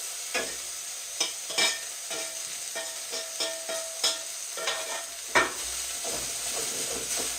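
Carrots and garlic stir-fried with onion and red cabbage in a pan, a steady soft sizzle broken by repeated spatula scrapes and clacks at an uneven rhythm, no talking.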